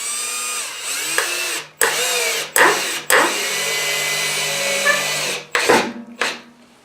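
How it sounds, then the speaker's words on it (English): A power drill bores a hole for a linearly actuated chicken coop door: close, loud whining bursts of drilling that start, stop and restart several times, with the motor pitch sagging and rising between pauses. "we probably drilled a hole in the wrong spot"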